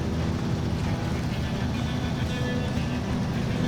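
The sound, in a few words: truck driving through mud in SnowRunner video game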